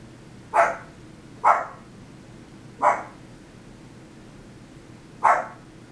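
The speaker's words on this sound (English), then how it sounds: "barking." A dog barks four times, single sharp barks spaced about a second apart, fairly clear over a low background hum with no talking.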